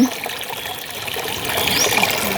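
Stream water flows at a fishing spot as a steady, broad rushing trickle that swells louder in the second half, with no voices.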